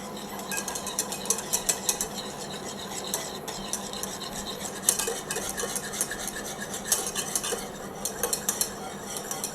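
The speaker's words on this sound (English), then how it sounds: "I'm just going to use wire whisk and then keep mixing it constantly until the orange curd thickens up." A wire whisk stirring orange curd briskly in a pan, rapid metallic scraping and tapping in a steady rhythm, close and continuous with no voices.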